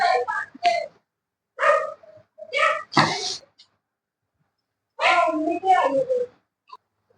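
A dog barks and yips in several short, loud, close bursts indoors during a tailoring class, with brief silences between.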